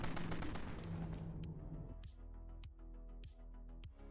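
A Tidal Wave SMG firing in Dead Frontier: a rapid, continuous burst of loud gunfire that stops partway through, followed by several separate sharp single shots spaced about half a second apart, with no talking.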